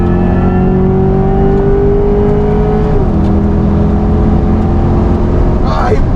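Corvette E-Ray accelerating hard in a drag race, a steady engine drone with a tone that shifts midway, continuous and close, with a brief whine near the end.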